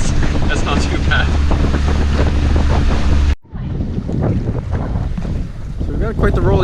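A sailboat moves through water at about 4 knots in wind, giving a constant rush of water and heavy wind buffeting on the microphone, with a brief dropout midway and then continued wash and gusts.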